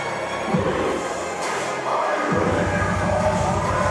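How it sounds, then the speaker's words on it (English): A capacity wrestling crowd at Blackpool Tower Circus roars and cheers in a dense, sustained wash of noise that swells midway and stays loud throughout, heard from within the arena. "And the capacity crowd here in the Blackpool Tower Circus joining in."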